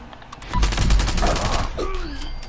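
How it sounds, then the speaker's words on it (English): Gunfire in Fallout 76 aimed at a super mutant, a rapid loud burst of shots from a quad-effect weapon, close and dense, with a lingering rumble afterward. "we're about to shoot this strongest super mutant"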